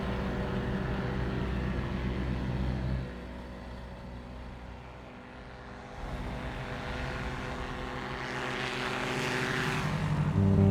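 A propeller airplane lined up on runway 35 throttles to full power for takeoff, a steady engine drone that dips briefly then swells louder and brighter toward the end.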